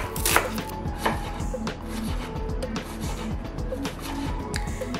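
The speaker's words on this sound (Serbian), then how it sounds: "za to vreme ću ja 2 glavice crnog luka iseckati sitno" Two onions chopped finely with a knife on a cutting board, a rapid run of close, crisp blade taps repeating steadily, with no talking.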